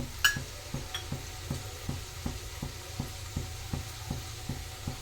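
Vegetables for bisi bele bath fry in a pan with a soft steady sizzle, cut by regular rhythmic scrapes of stirring, quiet and close, with no voices.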